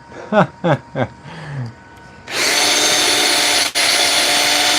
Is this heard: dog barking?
no